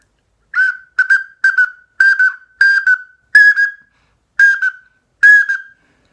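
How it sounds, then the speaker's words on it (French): Eight short, sharp whistles from a handheld shorebird lure, each a bright quavering call with steady pauses between them, loud and close with no other sound. "Je dirais plutôt que c'est un appôt pour limicole."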